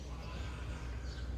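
Horses at a roadside farm with cars nearby, a whinny rising over steady low traffic-like rumble in the background, close and fairly loud for a brief moment.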